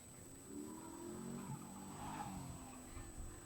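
An autocross car accelerates hard through a slalom course at a stadium, its engine note climbing and dipping through quick revving surges, heard from a distance at low level without talk.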